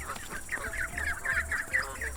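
Assorted birds, including a duck, crowd around pecking and squawking for cakes in a basket, a busy run of repeated clucking, fowl-like calls at close range with a low rumble underneath.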